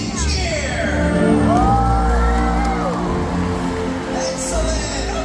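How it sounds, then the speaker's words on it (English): A stadium audience at a SeaWorld orca show in Orlando cheers and whoops in a loud, continuous roar, with shouts and higher calls rising out of the crowd and a deep rumble beneath it. "When you see him, give him a great big cheer!"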